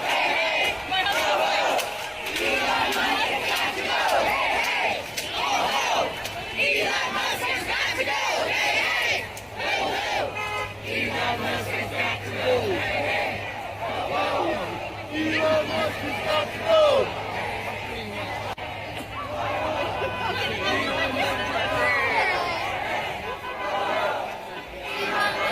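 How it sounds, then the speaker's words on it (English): A crowd of protesters gathered outside on a cold day, a loud, continuous roar of chanting, yelling and babble from many voices, with a steady low hum underneath throughout. "this is the crowd that was protesting outside"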